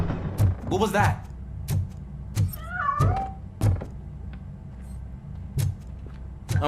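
A cat in RoboCop: Rogue City gives a couple of short, rising meows near the start and middle, mixed among sharp mechanical clicks and thuds from the game, with no one talking.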